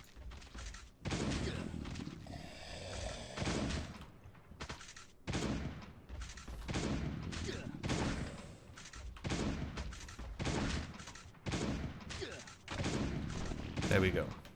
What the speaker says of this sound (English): I'm just going to use a shotgun just to get these guys to die out